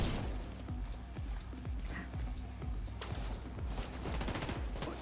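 Gunfire in The Division 2, a quiet, steady stream of rapid repeated shots like sustained automatic fire, continuing throughout without pause, with no talk.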